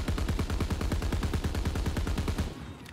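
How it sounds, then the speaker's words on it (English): A KG M-21 assault rifle fires in the game Call of Duty WWII, a rapid fully automatic burst of evenly spaced sharp shots lasting over two seconds, loud and close, ending abruptly. "And this is me shooting the target here without controlling the recoil."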